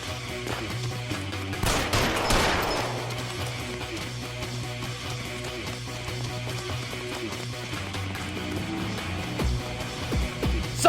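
Gunfire in the L.A. Noire video game: a sharp burst of shots with a loud crack near the start, then scattered single shots over a low musical score, no talk.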